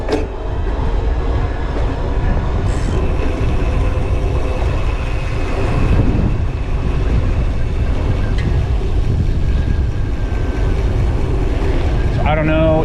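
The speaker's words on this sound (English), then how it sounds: "I don't know if you can hear me over the wind noise" Constant roaring wind buffets the microphone of a rider on a Diamondback Union 2 electric commuter bike (2021) speeding downhill, loud and unbroken throughout.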